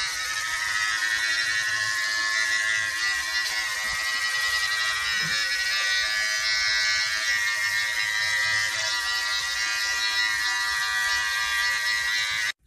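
An electric beard trimmer set to 5 mm buzzes steadily through a beard, a constant high-pitched motor whine with faint shifts as it moves over the hair, heard alone and close.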